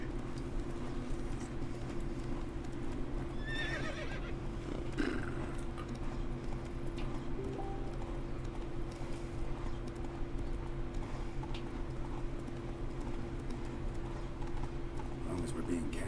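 Roach, Geralt's horse in The Witcher 3, gallops with steady hoofbeats under continuous game music, while voices talk over the riding.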